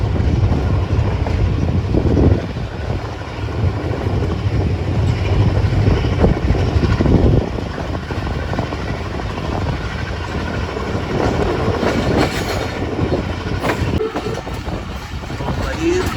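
The Awam Express rolls toward a station between Drigh Road and Jungshahi in Pakistan, slowing down. Its loud, steady rumble and wheel clatter fill the interior, with wind buffeting, and a voice speaks intermittently over the noise.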